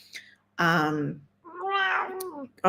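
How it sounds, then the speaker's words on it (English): A cat meows twice, close and clear, each call long and drawn out with a short pause between them. "We got Ocean meowing for you guys as well"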